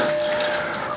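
Engine oil drains from a car into a pan below, a steady continuous pour with a watery, trickling rush, close and fairly loud, with no talking.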